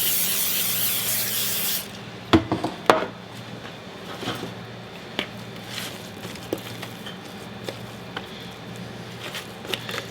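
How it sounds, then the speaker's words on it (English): Cooking spray hisses into a 9-inch bread pan in a bright burst, then stops, followed by scattered light knocks and taps of the metal pan being handled. "I have a 9-inch bread pan, and I'm going to give it a good spray, especially in the corners."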